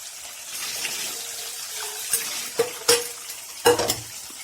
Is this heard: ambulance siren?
no